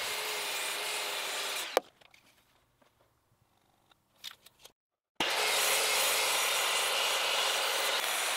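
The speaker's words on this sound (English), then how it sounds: "I cut every lap joint with a sliding miter saw" Sliding miter saw cutting lap joints in wooden beams, using a small wood block as a depth stop. Loud, steady blade whine at the start, then a quiet gap with small knocks and rubbing, then another long, steady, loud cut.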